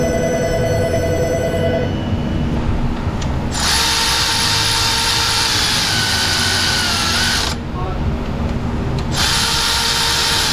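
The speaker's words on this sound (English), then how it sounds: "Phone's ringing." A telephone rings in an auto repair shop, a repeated electronic trill heard near and clearly, with power-tool-like whirring and shop noise filling the space between rings.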